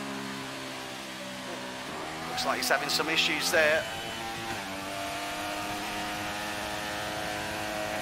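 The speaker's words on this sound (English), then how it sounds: "Apologise for the engine sound." A racing car's engine revs high and steadily during a circuit race in China, with a brief burst of louder revving and whining midway, while someone comments over it.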